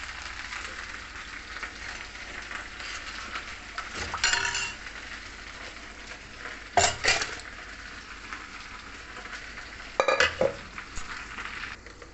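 Okra frying and being stirred in a pan for a sambar side dish, a steady sizzle with occasional louder scraping and clinks of a utensil against the pan, close and alone.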